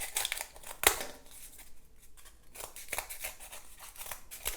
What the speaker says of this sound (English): So I've got my cardboard here, and I'm going to cut that out.